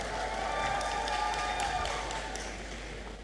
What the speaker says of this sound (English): Let's give her another round of applause, please.